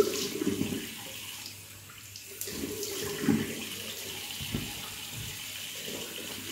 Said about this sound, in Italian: Vado a mettere un po' di acqua nel sapone, farò il prelievo direttamente nella ciotola del sapone.